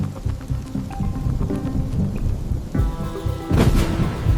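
Loud rolling thunder from a lightning strike, with steady rain pattering on surfaces throughout and a sharp, heavier crack near the end.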